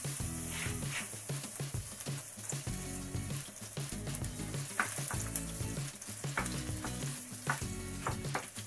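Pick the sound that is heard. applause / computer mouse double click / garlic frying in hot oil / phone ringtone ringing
garlic frying in hot oil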